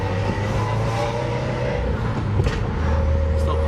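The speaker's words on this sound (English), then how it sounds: "Still pops when you shift" A Subaru WRX with a catless J-pipe driving downhill, its loud exhaust droning steadily up close with faint pops and crackles as gears change, while people talk over it.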